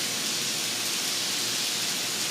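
Rain falls steadily on a wet Sunday, a dense, even hiss that stays loud and unbroken throughout with no talking.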